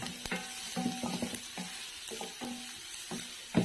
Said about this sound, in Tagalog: ito yung una kong igigisa. para lumabas yung aroma